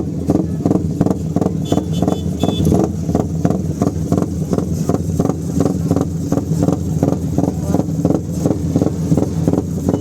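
A modified motorcycle engine idles at a motor show in Sta. Barbara, Pangasinan, close and loud, with a rapid, even, pulsing exhaust beat throughout and a faint brief whistle early on.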